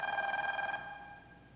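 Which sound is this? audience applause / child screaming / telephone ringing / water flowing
telephone ringing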